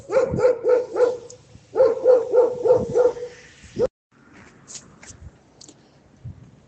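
Several dogs bark in quick repeated bursts, two clusters of loud close barks followed by quieter distant yips and rustling.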